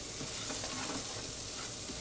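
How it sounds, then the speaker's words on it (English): Long grain rice stirred into hot oil with garlic and onions gives a steady soft sizzle with light scraping movement, continuous for a couple of seconds with no talking. "I'm going to add that to the mix. I'm just going to give that a bit of a stir around."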